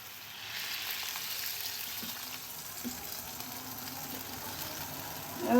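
Pangas fish going into a pot of pulao, a soft steady sizzle and bubbling with a few light clinks and stirring scrapes, rising to a louder clatter at the very end.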